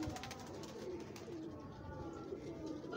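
Pigeon cooing in Lahore, soft low coos repeating steadily under a constant background murmur of birds and distant ambient noise.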